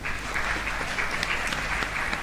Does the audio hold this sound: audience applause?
yes